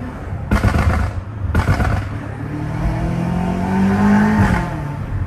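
A catless BMW M5 Competition revs hard up close, with two sharp exhaust cracks early on, then a rising, droning engine note that builds loudly toward the end.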